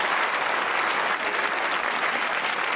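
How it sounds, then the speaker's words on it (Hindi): A studio audience breaks into applause during a talk-show interview, dense, continuous clapping filling the short stretch without any talking over it. "अच्छी बात है, ताली बजनी चाहिए थी"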